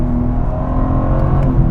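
A BMW M4 Competition's turbocharged six-cylinder engine pulls under acceleration, a steady, loud drone that rises slightly over under two seconds, heard from inside the car with no talking.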